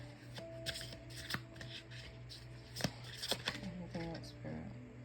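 A tarot card deck is shuffled close by, quick papery riffles and soft card slaps in short bursts, heard quietly under a person speaking.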